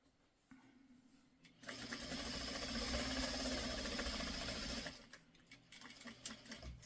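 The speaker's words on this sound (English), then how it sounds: "I am sewing on a Juki sewing machine." A Juki commercial sewing machine whirs into rapid, steady stitching on quilt fabric for a few seconds, then stops. Quieter handling sounds come before and after.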